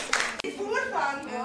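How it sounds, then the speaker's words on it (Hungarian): Pupils in a Hungarian primary maths lesson give a short burst of clapping for a classmate, quickly giving way to children's voices talking nearby. "egy tapsot neki"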